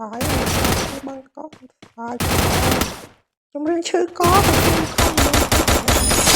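Automatic gunfire from the mobile battle game Free Fire crackles in loud bursts separated by short pauses, ending in a run of rapid, closely spaced shots.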